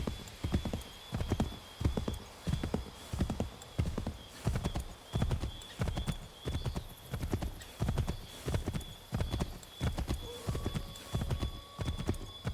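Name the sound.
horses galloping in video game Assassin's Creed III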